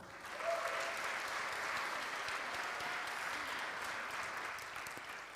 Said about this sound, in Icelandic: Kór Lindakirkju og frábærir einsöngvarar gefa þeim gott klapp.